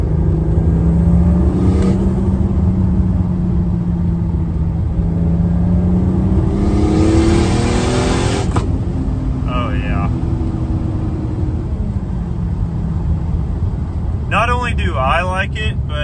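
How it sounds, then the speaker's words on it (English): Turbocharged BMW E46 with an M52 inline-six pulling hard on the road, engine drone rising steadily with a brief whooshing turbo burst in the middle, a person talking over the engine throughout. "I'll try to get on it up here somewhere just so we can hear some of those turbo noises."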